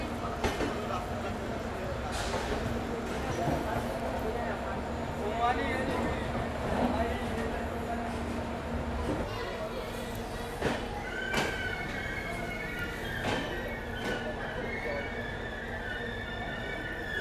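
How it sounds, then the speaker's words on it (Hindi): The Somnath Express pulls out of Rajkot Junction at night toward Veraval, a steady low rumble of rolling rail cars with faint clanks and squeals, heard under a voice speaking at the station. "सोमनाथ एक्सप्रेस जो कि अभी वेरावल की ओर जा रही है वो निकल रही है"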